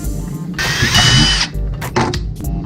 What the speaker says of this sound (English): So the holes are drilled.